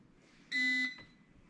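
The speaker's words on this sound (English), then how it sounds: "you press that button, you get that one beep" A biometric gun vault gives one short, bright electronic beep when its button is pressed, clear and close in a quiet room.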